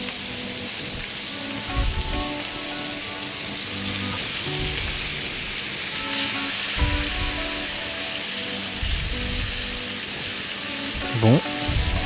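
Meat searing in a hot pan for a Congolese dish, a steady loud sizzle of frying running throughout with occasional low knocks and brief stirring, no voice over it.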